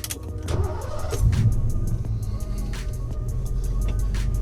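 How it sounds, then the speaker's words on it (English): A 1991 Ford Foxbody Mustang convertible with an 8.8 rear end starts up, a sharp crank and catch settling into a steady low engine rumble, heard from nearby with clicks and rattles over the idle. "let's fire the cars up, go for a cruise"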